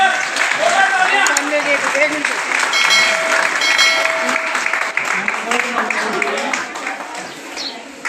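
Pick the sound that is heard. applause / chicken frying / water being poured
applause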